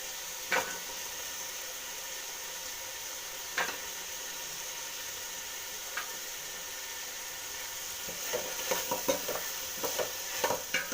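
Green chillies, garlic and ginger frying with tomato for a chicken gravy, a soft, steady sizzle with a few sharp stirring clicks early on and a burst of quick scraping near the end.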